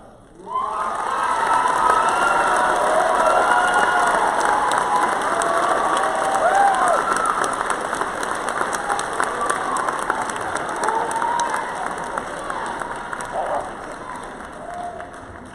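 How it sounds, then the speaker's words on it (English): A graduation crowd at Central Penn College breaks into loud, sustained applause with cheering and scattered shouts for an award winner, the clapping holding strong before slowly thinning out. "Please give me a congratulatory applause for this year's Legacy Award winner and Perseverance"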